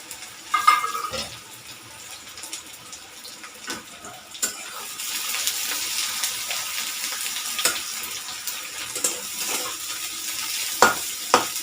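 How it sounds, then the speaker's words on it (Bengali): Sliced onions for beresta fry in white oil in a wok, a moderate, steady sizzle and hiss with occasional clinks and stirring scrapes. "আমি বেরেস্তা ভাজবো।"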